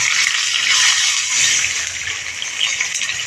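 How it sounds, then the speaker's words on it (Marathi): Water poured into a hot pan of tempering with fried curry leaves, a loud continuous hissing rush that steadily fills the whole moment. "आपण ह्याच्यात पाणी घालणार आहोत"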